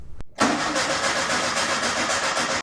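Austin Healey car engine cranking with a short turnover burst, a brief pause, then catching and settling into a loud, steady running rumble with a faint pulsing rhythm.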